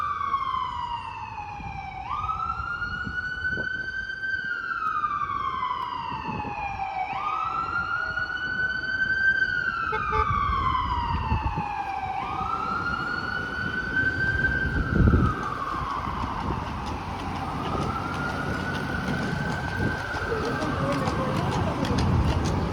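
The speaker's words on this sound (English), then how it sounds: "sirens going off" An emergency vehicle siren wails in repeated rising-and-falling sweeps over steady street traffic noise at Columbus Circle, Manhattan, New York City, loud and continuous for the whole stretch.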